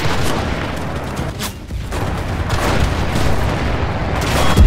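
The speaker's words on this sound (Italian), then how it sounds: "Penso che qualcuno mi abbia sparato" Gunfire and heavy booms roll through a Battle of Berlin match at Lehrter Bahnhof in the video game Enlisted, a steady, loud barrage of shots and blasts with no quiet gaps.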